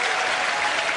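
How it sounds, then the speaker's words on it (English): An audience at a George Carlin stand-up show roars, a brief, dense wash of clapping and crowd noise that stays steady and full throughout. "You hear the crowd going crazy"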